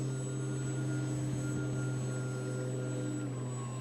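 A steady, fairly faint electric motor drone with a constant high whine comes from a foam board RC plane cruising at reduced throttle, holding an even pitch with no talking.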